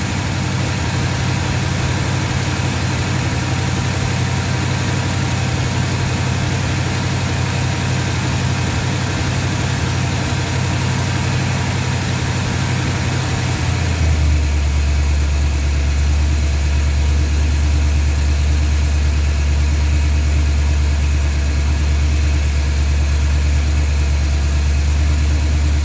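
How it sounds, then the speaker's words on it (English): A 1977 Pontiac Trans Am engine idles steadily and loudly up close, a constant low rumble whose pitch drops slightly partway through as the timing is adjusted, with no talking. "And that's a very nice, healthy, steady idle."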